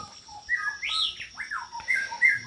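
A white-rumped shama (murai batu), a captive-bred songbird, sings a varied run of clear whistled phrases and chirps, close and fairly loud, with short gaps between notes.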